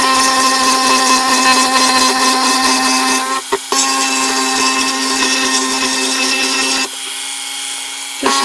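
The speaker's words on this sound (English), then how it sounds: "So we're going to get this rubber bit, and let's start with" A rotary tool fitted with a rubber bit smooths the feet off a plastic case, making a loud, steady high-pitched whine with two brief dips where the bit comes off the work.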